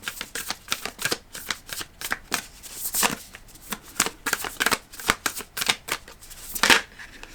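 Oracle cards from a Starcodes Astro Oracle deck being shuffled by hand, a steady run of crisp riffling flicks and slaps close up, with no talking.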